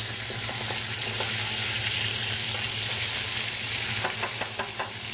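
Sausage sizzles and browns in a hot pan for a duck cassoulet, a steady close hiss with light crackle, plus a few sharp utensil taps near the end.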